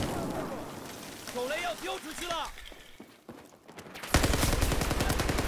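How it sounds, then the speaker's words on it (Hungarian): Rapid automatic gunfire erupts in Battlefield 4, a harsh burst of dense repeated shots that arrives suddenly and holds loud to the end, following a stretch of game voices and scattered sounds. "szomszédházból lőnek"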